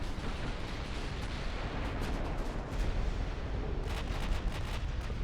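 Naval gunfire from warships dueling with a battleship in Ultimate Admiral Dreadnoughts: a steady, rumbling wash of distant cannon fire. Heavier clusters of booming salvos break through around the middle and again toward the end.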